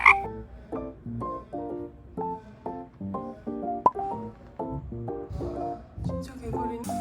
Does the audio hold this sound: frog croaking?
yes